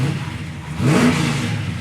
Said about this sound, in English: it's got a really nice sounding exhaust